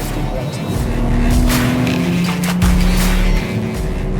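A covered BMW M3 prototype sedan brakes hard into Hatzenbach on the Nürburgring, a loud close engine roar with shifting tonal whine and rumbling road noise, steady and dense throughout, with someone talking over it.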